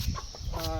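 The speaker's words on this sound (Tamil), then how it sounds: "பெருசு கோழி இருக்குது." Chickens make a brief burst of clucking, a short throaty call close by over low background noise.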